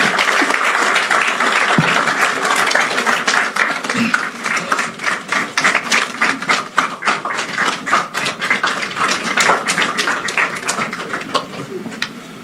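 A standing ovation for President Mahama: loud, dense applause from a large audience sustained for the full stretch, with light crowd noise and brief voices mixed in.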